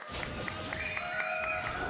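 An arena crowd at an MDL Mobile Legends esports match claps and cheers steadily, a continuous wash of applause with repeated sharp claps under faint tonal music.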